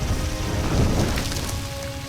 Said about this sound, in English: So a nice little waterfall there.